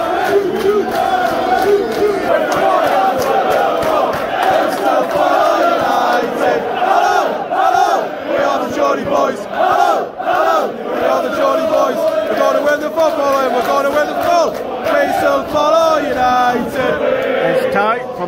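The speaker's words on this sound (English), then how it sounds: "Newcastle fans are still louder than the home fans after goal." Newcastle fans chant loudly and continuously in a football stadium after an Arsenal goal, a dense wall of massed voices in rhythmic song that fills the whole stretch.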